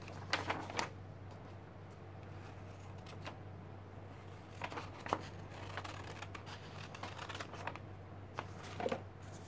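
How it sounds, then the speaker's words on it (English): Scissors cut leaf shapes out of paper, giving quiet, crisp snips and rustles in irregular short bursts, close by over a low hum, with pauses between cuts. "I'm going to cut some leaves."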